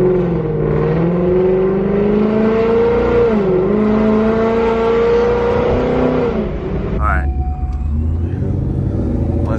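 A 1,000 hp ESS G3R Mustang GT accelerates hard on a New Jersey street. The engine note is loud, close and rising, then shifts and drops off near the end.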